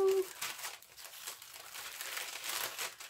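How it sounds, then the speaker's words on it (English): A paper envelope is torn and ripped open by hand, with crinkling, crumpling tears rising and falling at close range. "I'm starting to rip it all now because I'm impatient to know what else I've got."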